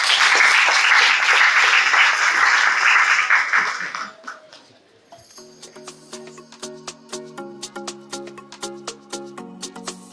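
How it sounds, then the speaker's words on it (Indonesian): An audience at a training event for teachers and students breaks into loud, sustained applause that fades after about four seconds, followed by quieter scattered clapping under background music. "Boleh tepuk tangannya?"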